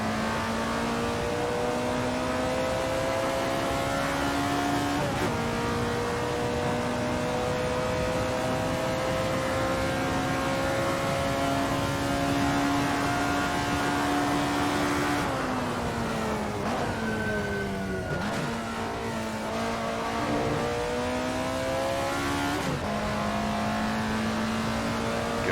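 Alfa Romeo 33 Stradale engine in the racing game Assetto Corsa, revving loudly and steadily through the gears with rising pitch sweeps, a downshift and throttle changes around a track, continuous and close with no talk.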